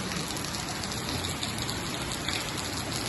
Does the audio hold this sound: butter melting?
no